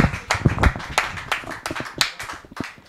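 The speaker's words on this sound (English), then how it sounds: "Clap your hands for Angora." An audience at a live stream event claps hands in a short burst of scattered, uneven applause, close and fairly loud, tapering off over a few seconds.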